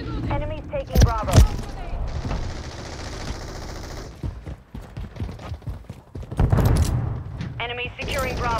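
Rapid bursts of automatic gunfire and sharp shots crackle through a Call of Duty: Modern Warfare 3 multiplayer match, mixed with explosions and clipped game voice callouts.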